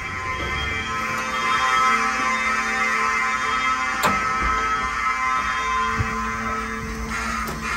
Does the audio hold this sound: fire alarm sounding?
yes